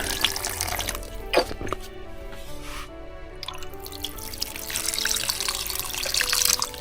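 Water poured into pots of rubber plant cuttings, splashing and dripping close by in uneven bursts, with trickling continuing under the sound throughout.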